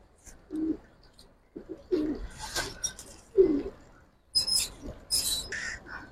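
Pigeons coo in soft, throaty bursts of several notes, close by, with a few rustles and higher chirps between the calls and no talking.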